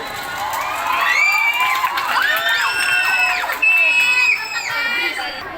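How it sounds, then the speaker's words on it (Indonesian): A crowd of high school students from SMA Negeri 1 Pagaralam cheers and shouts loudly, with whoops and excited children's voices over scattered clapping, sustained throughout. "Tepuk tangan dulu dong, boleh nggak?"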